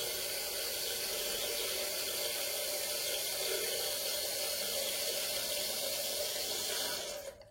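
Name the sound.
toilet cistern refilling with water through float valve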